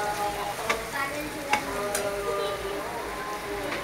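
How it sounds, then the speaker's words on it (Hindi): Potatoes fry with onions for batata vada, a soft, steady sizzle at moderate distance with a few sharp ticks of a utensil against the pan. "उसमें हम अब डालते हैं आलू। इसे अच्छा मिक्स कर दीजिए।"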